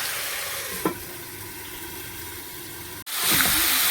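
Vegetables fry in a covered pan with a steady sizzle, broken by a couple of stirring clatters and a lid clank near the end, after which the sizzling returns louder.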